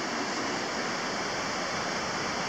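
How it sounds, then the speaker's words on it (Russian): Rushing water of the Lazarevsky rapids on the Voloma river in Karelia, a loud, dense and constant roar of whitewater close by, with no voices. "Напор воды здесь довольно мощный"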